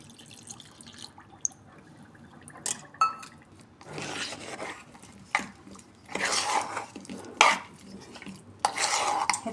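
Semolina and yogurt batter being stirred in a bowl, spoon scraping and clinking in irregular bursts, close and alone without speech.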